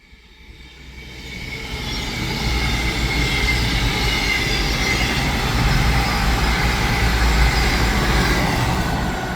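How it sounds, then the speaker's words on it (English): CrossCountry Voyager train passing through Heaton Chapel station on the West Coast Main Line Manchester branch, a rumble that builds over two seconds into a loud sustained roar with wheel noise, close by and alone. "Here we have a cross-country Voyager."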